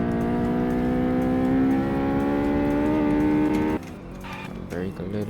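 Tuned Mitsubishi Lancer Evo X engine on a race track in a video game, a loud sustained high rev with a slowly climbing pitch, then a sudden drop as the throttle lifts and the engine settles to a lower burble.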